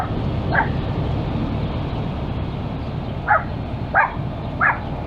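A dog barks a few times at a distance, four short separate yaps spread across the clip, heard outdoors over steady wind or road noise during a ride on a Jansno X50 v2 electric scooter.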